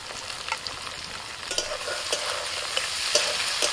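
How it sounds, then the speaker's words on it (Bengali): Beans, carrots and capsicum stir-fry in a wok with a soft, steady sizzle, and scattered scraping stirs are heard close by. "বিনস কিছুক্ষণ নাড়াচাড়া করে ভেজে নিয়ে এবার আমি দিয়ে দিচ্ছি গাজর, ক্যাপসিকাম"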